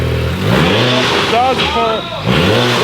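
Cold start of a Volkswagen MK6 Golf R with a built engine and TTE480 turbo, a loud engine roar with rising revs, under excited shouting voices.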